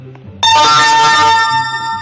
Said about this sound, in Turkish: Bildirim geldi arkadaşlar.